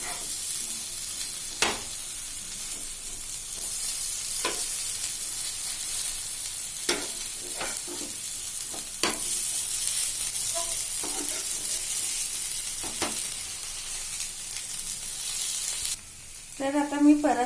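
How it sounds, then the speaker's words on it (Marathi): Clam cutlets (vade) shallow-fry until crispy in a pan, a steady soft sizzle running throughout with occasional spatula taps and clicks, ending in a short burst of louder clattering. "दोन्ही साईडने आपण असे जरा क्रिस्पी ते भाजून घ्यायचे आहेत"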